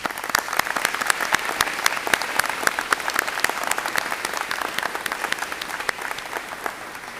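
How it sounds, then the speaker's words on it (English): Audience at an all-American award ceremony giving a round of applause, a dense, even clapping from many hands that holds steady throughout and fades slightly at the end. "Can we give them one more round of applause, please?"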